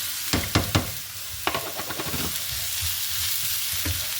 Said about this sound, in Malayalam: ഇനി ഇതിനകത്തേക്ക് സ്ലൈസ് ചെയ്ത് വെച്ചിരിക്കുന്ന ഓണിയൻ ആഡ് ചെയ്യാണ്.